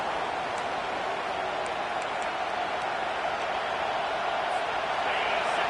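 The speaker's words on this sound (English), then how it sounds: "The roar of the crowd trying to fuel this defense to keep them pinned in their own end" A football stadium crowd roars steadily, cheering on the defense in a broad, unbroken wash of noise that stays loud and even from start to finish.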